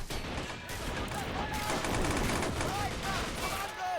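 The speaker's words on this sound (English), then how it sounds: "Okay, covering fire." Covering gunfire in the Men of War video game during a river D-day beach assault, dense rapid bursts of machine-gun and rifle fire crackling continuously for a few seconds, fairly loud and busy with battle clutter.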